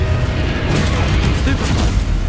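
Spell effects in the Hogwarts Legacy video game, with Stupefy stunning spells cast one after another, heard as dense, loud booming bursts and magical impacts filling the whole clip.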